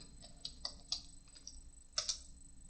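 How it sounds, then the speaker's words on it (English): A handful of light, scattered clicks on a computer keyboard as a search is typed, close and soft over a quiet background hum. "if I go to All Studies and I type in Alekhine"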